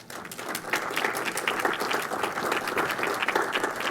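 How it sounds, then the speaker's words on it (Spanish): Steady audience applause for invited guests at a formal event, many hands clapping densely and evenly for the whole stretch, with no talk. "un fuerte aplauso para todos los invitados"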